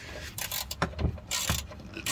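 A ratchet tightening the oil drain bolt on a Cadillac DeVille's 472 engine, making short bursts of clicking pawl strokes close up, several in quick succession with brief pauses between.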